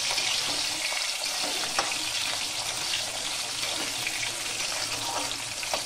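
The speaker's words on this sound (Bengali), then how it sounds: "আলুগুলোকে 2-3 মিনিটের মতন নাড়াচাড়া করে নেব ভালো করে" Potatoes stir-fried with panch phoron in a pan for a Bengali pumpkin niramish: a steady, dense sizzle with soft scraping of the stirring, continuous and close, with no talking.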